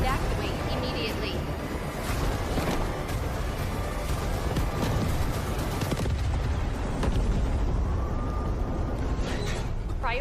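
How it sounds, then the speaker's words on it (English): Hydrogen reactor explosion in the video game Delta Force, a dense, continuous rumbling blast with crackling debris and mechanical clatter, loud throughout, with an announcer's voice speaking over it. "Hydrogen explosion at reactor 2."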